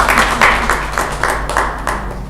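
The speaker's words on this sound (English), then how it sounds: "Clap for yourselves." A conference audience claps together in a sustained burst of applause, with rhythmic clap peaks rolling steadily across the room and no talk over it.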